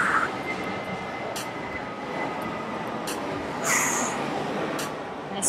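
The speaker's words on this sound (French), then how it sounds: "Il y a vraiment, vraiment beaucoup d'avions qui passent derrière." Airplanes passing overhead during an outdoor workout, a steady distant engine rumble and whine lasting throughout, fairly faint with brief sharper sounds on top and no talking.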